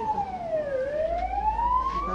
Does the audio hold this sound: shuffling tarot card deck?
no